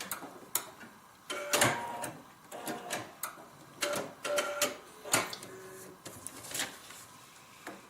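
A sewing machine stitches a paper-pieced log cabin heart quilt block in short, separate bursts of a few stitches each, with quiet pauses between, close by.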